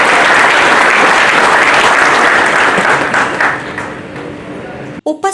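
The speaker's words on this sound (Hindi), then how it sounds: "प्लीज एक बार जोरदार तालियां हो जाए इन बड़ी संगठन के लिए." Loud audience applause at a hotel association gathering, a thick burst of clapping that fades over several seconds before a few sharp clicks and a brief voice at the end.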